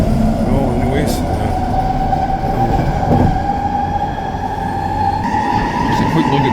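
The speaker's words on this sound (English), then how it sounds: "There's the Mark 2, the 2000 Winter Games version. SkyTrain." A Vancouver SkyTrain Mark 2 car rolls past close by with a steady rumble and a sustained electric whine, heard on a weekday morning near New Westminster.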